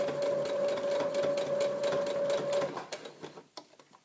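Sewing machine running steadily, stitching a quarter inch seam on a memory bear body, a continuous close whir for most of the stretch before stopping, followed by a few soft handling taps.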